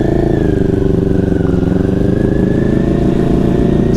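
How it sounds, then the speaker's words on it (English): A BMW S1000RR sport motorcycle being ridden, its engine a loud, steady, close drone with a gently shifting pitch throughout, and no talking. "Someone with less than, what, 300 miles under their belt could jump on an S1000RR and take it for a cruise"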